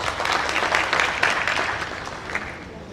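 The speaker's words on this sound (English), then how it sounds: "one more round of applause for them" Audience applause after a panel discussion at a forum, a steady wash of clapping from a crowd that holds throughout and tapers slightly at the end, with no speech over it.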